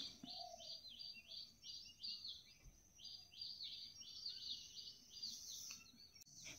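Small birds chirp and tweet in repeated quick bursts at dawn around 6 a.m., clear and fairly near over a quiet outdoor background, with a short pause partway through and no talking.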